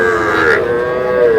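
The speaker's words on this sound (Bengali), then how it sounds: "ষাঁড় বাচ্চা" A young bull calf at a busy village cattle market gives one loud, sustained moo that lasts through the whole moment, close and strong, with crowd murmur underneath.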